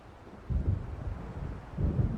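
Storm wind and rumbling thunder approach in the Alan Wake video game, with two loud low rolling surges over a steady windy background and no talk.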